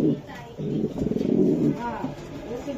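Club racer pigeons coo in repeated throaty, rolling calls nearby, with someone talking over them at moderate loudness.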